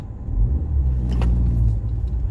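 An Omoda C5 GT's engine rumbles low and steady, swelling slightly as it revs and the car pulls away, close by with no voices.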